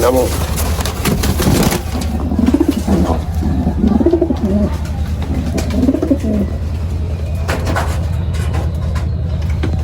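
Lahori Shiraji pigeons in a loft coo in repeated low, throaty rolling phrases, close by and fairly loud, while a person talks in the background and traffic rumbles faintly.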